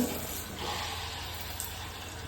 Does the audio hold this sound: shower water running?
yes